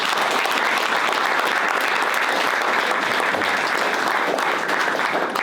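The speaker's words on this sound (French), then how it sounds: "Je pense que déjà on peut les applaudir." An audience at an awards ceremony applauds young champion athletes with sustained, even clapping that stays loud and dense throughout, with no distinct voices.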